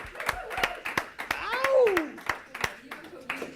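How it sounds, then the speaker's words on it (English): Scattered hand claps from a small audience at a live chapter gathering, a few sharp claps spread over several seconds with a rising cheer or whoop in the middle. "We can give him a round of applause"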